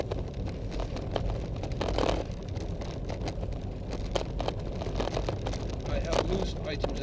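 Loose items, including a pen, rattle in the boot of a Skoda Fabia 1.2 TDI while driving, a scatter of small irregular clicks and knocks over continuous road and engine rumble, with someone talking.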